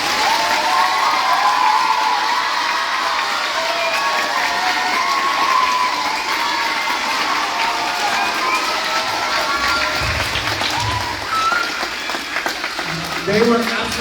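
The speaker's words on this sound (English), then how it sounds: "let's give all our candidates a huge round of applause" Sustained cheering and applause from a school crowd of students at a student government election, loud and steady throughout with high shouts and whoops, tapering slightly near the end.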